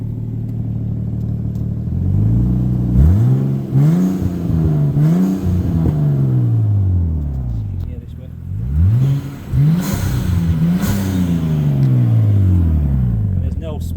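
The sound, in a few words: Nissan Skyline R34 GTT 2.5 single turbo engine revving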